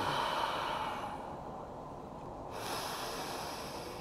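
A long, deep exhale during a seated fascia stretch, heard as a steady, soft rush of breath close to the microphone with no talking.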